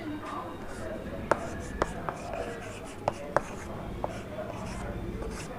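Marker or chalk strokes on a board while writing a word, a short series of sharp taps and squeaks over a steady background hum, with no talking.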